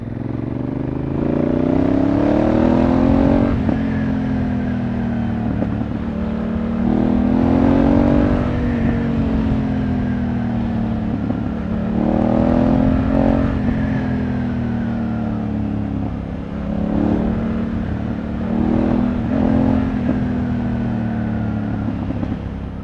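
Honda Africa Twin DCT motorcycle riding over gravel, its engine droning steadily and loud with repeated rises and falls in revs, plus clattering from the loose surface underneath.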